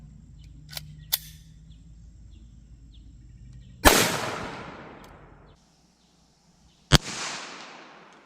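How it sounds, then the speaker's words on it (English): .22 Long Rifle gunshots ring out as two loud, sharp cracks a few seconds apart, each trailing off in a reverberant tail, with a couple of small clicks before them. "All right, here we go with the .22 long rifle."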